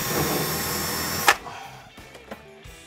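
A power drill bores a hole through a drilling jig with a loud steady whir. It cuts off abruptly after about a second, leaving a few faint clicks and knocks.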